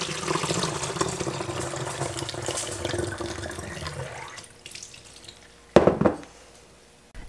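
Water runs steadily from a tap, measured out as two cups for a homemade vinegar cleaner, a continuous pouring hiss that stops, followed by a brief louder splash near the end.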